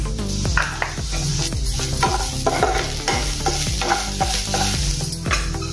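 Okra and potato sabzi with broken dried red chilies is stirred in a pan, a spatula scraping and knocking in a steady rhythm over a constant loud frying sizzle, close and without talk.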